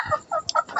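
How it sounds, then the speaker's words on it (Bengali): A young chicken gives short, soft clucks and chirps in quick succession, close up with no talk over it. "এটা হচ্ছে বাচ্চা একটা মুরগি"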